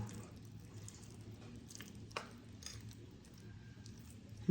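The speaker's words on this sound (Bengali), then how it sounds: "এবার দেখো চালের যে আমি ব্যাটারটা রেডি করে রেখেছি সেটার সাথে দেখো আমি এই যে পুরটাকে মিশিয়ে নেব" A hand mixes filling into a rice batter for an evening snack, making soft, wet squishing and dull patting sounds with occasional faint clinks. The sounds are quiet and irregular over a low background hum.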